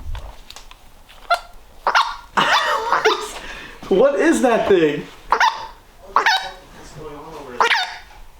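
A dog barks and yips repeatedly inside an abandoned house, close and loud, in uneven bursts with whimpering tones, while people talk over and between the barks.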